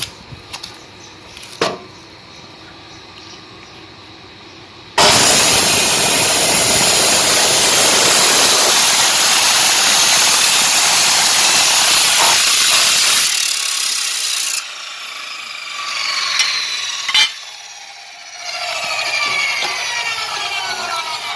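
Power saw cutting through steel along an adjustable rolling cutting guide, a loud continuous grinding whine lasting about ten seconds before cutting off, followed by quieter clicks and sliding sounds of the guide.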